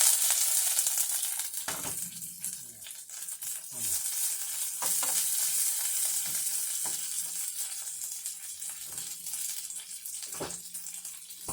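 Salmon fillet frying in a pan: steady hissing sizzle throughout, with a few clinks and knocks of a utensil, close and moderately loud, no talking.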